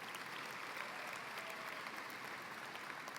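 Audience in a high school auditorium applauding at a commencement ceremony, sustained even clapping from a large crowd lasting throughout, moderately distant and without speech on top.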